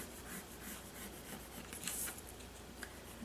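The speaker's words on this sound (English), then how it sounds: "And I'm going to add some color to that by using color pencil." Colored pencil rubs and scratches across paper in quick, uneven back-and-forth strokes, heard close and fairly soft with no talking.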